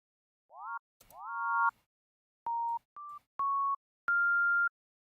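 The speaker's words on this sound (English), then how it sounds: "It's a fucking 3x oscillator." A 3x oscillator synthesizer plays a short series of bright, clean tonal notes, the first two sliding upward in pitch and the rest held steady at stepped pitches, each cleanly separated by silence.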